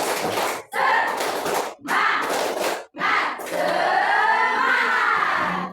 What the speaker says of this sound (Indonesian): Ayo sama-sama kita tepuk semangat.